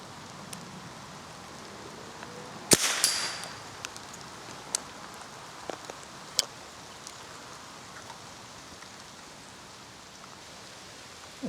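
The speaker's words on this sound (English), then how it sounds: "Now we'll shoot at that target on the far left." An old .22 rifle fired at targets outdoors, one sharp crack followed by a few fainter, spaced shots or impacts over a steady hissing background.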